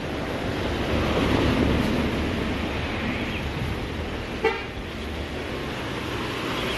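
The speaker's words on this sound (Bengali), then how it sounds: "এই যে এখান দিয়ে ঝর্ণার মতো জল বয়ে যাচ্ছে।" A rain-fed natural waterfall stream in Lamahatta forest rushes with a steady, full, close roar that stays even throughout, with one brief sharp sound near the middle.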